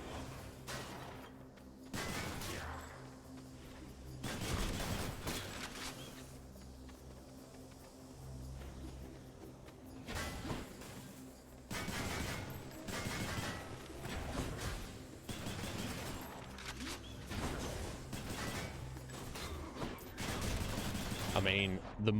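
In the Hades video game, a gun's mortar attack sounds as repeated booming blasts and gunfire bursts through combat, mixed with whooshes and clanking effects, while someone talks over the action.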